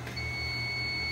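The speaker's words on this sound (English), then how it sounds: "I should hear a beep sound and then the door should come" A short electronic beep from the door button of a vacuum sample-loading chamber, a thin steady tone over a low equipment hum, faint and lasting about a second.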